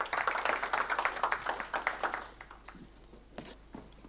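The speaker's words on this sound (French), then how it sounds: "On peut l'applaudir." Audience at an e-health awards pitch session claps after a presentation: a lively burst of hand claps at first, thinning out after a couple of seconds to a few scattered, fainter claps.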